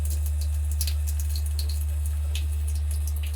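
A reverse osmosis water filter drones with a steady low electrical hum beneath faint trickling water and small drips, close by and unchanging.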